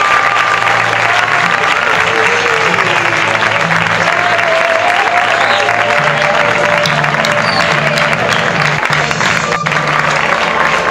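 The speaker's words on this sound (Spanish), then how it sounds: "Un aplauso grandísimo" Loud, dense applause from a large audience at a Roma association's presentation evening in Turre, sustained for the whole stretch, with a murmur of voices beneath.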